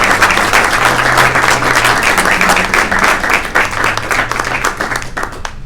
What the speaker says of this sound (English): I would like you to please applaud